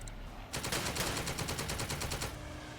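Soldiers in the tactical video game The Troop open fire in a rapid, continuous burst of automatic gunfire that starts abruptly and stays dense and steady, fairly quiet in the mix.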